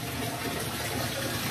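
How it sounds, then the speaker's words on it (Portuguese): Gravity-fed water runs steadily in a rural house bathroom, a continuous broad rushing with no breaks, moderately close and with no talk over it. "isso aí é a água de gravidade, né? É, a água do banheiro aí."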